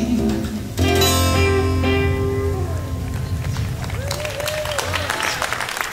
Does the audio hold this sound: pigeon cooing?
no